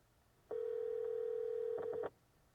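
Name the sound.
phone call dialing via Amazon Echo Auto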